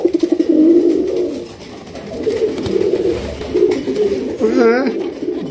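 Pigeons on a Bangladeshi pigeon farm keeping about fifty pairs coo close by. Their repeated throaty, wavering calls run through the clip, with a voice heard partway.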